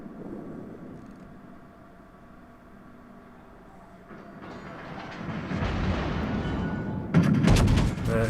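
Scharnhorst, a German Tier 7 battleship in World of Warships, fires a salvo: low rumbling guns build into a heavy, sustained roar with a sharp burst near the end, loud and with no voices over it.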